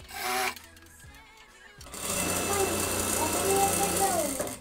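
A sewing machine runs in a brief burst, pauses, then stitches steadily and loudly while sewing a narrow double-folded rolled hem around the edge of a dress ruffle, close by.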